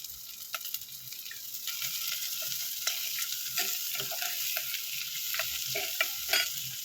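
Onions sautéing in hot oil for a fish curry, a steady close sizzle broken by repeated scrapes and clinks of a spoon stirring the pan, with no talk.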